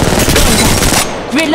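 Gunfire in the mobile shooter Apex Legends Mobile, a short loud burst of rapid shots blended into dense game noise, ending abruptly after about a second.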